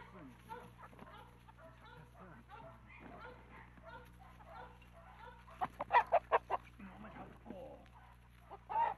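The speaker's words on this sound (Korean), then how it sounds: "명절이 되면 닭장 속 닭은 있는 힘껏 주인과 다름질을 벌인다." Native Korean chickens in a coop in a mountain village cluck and squawk at the holiday season. A narrator speaks throughout. A burst of loud, rapid clucks and flapping rises midway, and another sharp squawk comes at the end.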